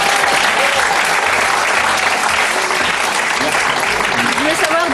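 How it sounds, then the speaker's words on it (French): Studio audience at a French TV show breaks into sustained, loud applause lasting several seconds, with faint voices mixed in beneath the clapping. "Vous avez envie d'applaudir?"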